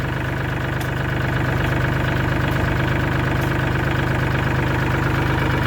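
A Kubota L3408 tractor's diesel engine idles steadily nearby, a loud, even low rumble with a rhythmic knock that never changes pace.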